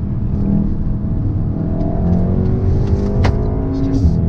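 A Volkswagen Golf R MK7 engine pulls hard accelerating uphill, a steady loud drone with rising harmonics, heard close up from inside the car.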